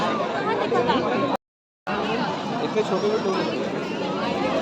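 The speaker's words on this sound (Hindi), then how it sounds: "हर जगह भीड़ लगी हुई थी।" Dense crowd chatter fills a packed school winter carnival, with many overlapping voices forming a steady babble that cuts out briefly for a moment before resuming.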